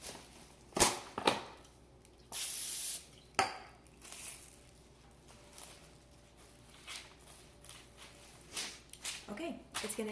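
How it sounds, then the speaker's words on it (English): Cooking spray is applied to a pan for shaping bread dough, a short hissing burst near the middle with clinks of metal around it, while a person talks throughout. "You do want to spray this so that it doesn't stick to the dough."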